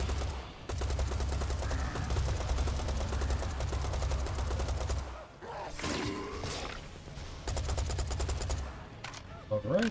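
Sustained rapid weapon fire in the shooter game Serious Sam 4 rattles loudly for several seconds, stops briefly amid whooshes and impacts, then resumes in another long burst, with someone talking over it.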